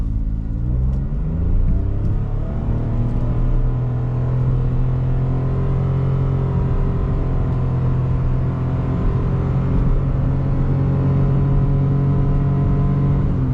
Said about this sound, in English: we're gonna do one acceleration to see how she does, because it's funny to see how this car tries to get up to highway speeds.